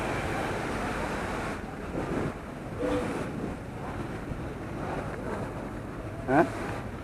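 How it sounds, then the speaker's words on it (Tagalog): A barge ferry crossing from a wharf toward Samal Island on a road trip from Tagum City, giving a constant rumble of engine, water and wind with brief bumps and clatter, while people talk quietly in the background. "Sakay ng barge."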